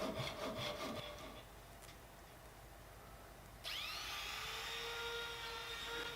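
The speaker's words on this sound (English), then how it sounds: "cutting the splines now. It's a Japanese pull saw." A Japanese pull saw cuts wooden splines with quick rasping strokes up close, slows into softer scraping, then finishes with a sharper ringing cut.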